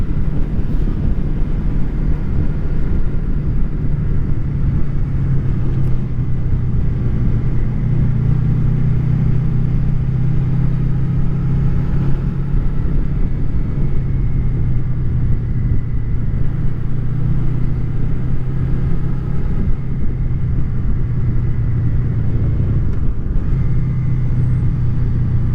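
A Honda VFR800 motorcycle rides on a steady, loud engine drone with heavy wind rumble in autumn, the note holding fairly constant with slight shifts in pitch and no talk.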